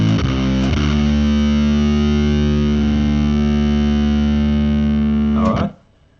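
Electric guitar played through a breadboarded Bazz Fuss fuzz circuit: one loud, heavily distorted chord rings out steadily for about five seconds, then is abruptly muted, with no voices.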